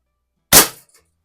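A single sharp crack from a Reximex Lieva .22 lever-action PCP air rifle pellet striking a silver metal paddle target, one brief loud impact with a quick fading ring, alone in silence.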